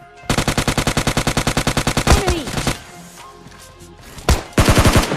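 Rapid automatic gunfire from a firearm in the mobile battle-royale game PUBG Mobile Lite: a long, evenly spaced burst of loud shots, a pause with faint game sounds, then a couple of single shots and a short closing burst.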